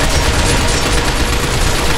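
Dense, continuous automatic gunfire loud and close throughout, a relentless rattling burst from a shooter aimed at robot legs in the video game Binary Domain.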